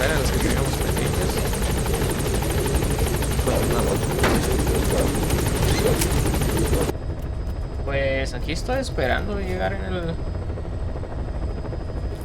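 A helicopter in Metal Gear Solid V: The Phantom Pain drones with a loud, continuous rotor buzz for about seven seconds, then cuts to a quieter background as someone speaks Spanish over it.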